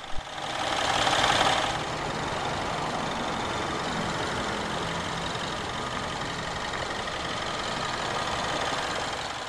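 The 1.6-litre turbocharged N13 B16 engine of a 2015 BMW 120i M Sport idles steadily after start-up, a brief rise in revs and then a low, even hum that holds without talk.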